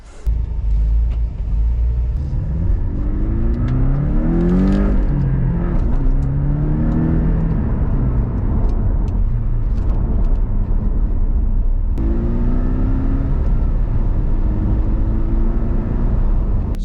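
A 2019 Porsche 718 Cayman 2.0T with a manual gearbox drives on the road, its turbo flat-four droning and rising through revs, easing off for a shift, then pulling up again under steady road rumble.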